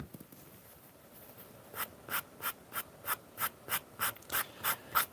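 Leather edge being sanded by hand, starting quiet, then a regular run of about ten close rasping strokes in a steady back-and-forth rhythm.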